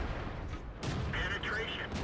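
Tank cannon shot striking an enemy tank in World of Tanks, a short sharp boom and impact rumble at moderate level, with a voice talking around it.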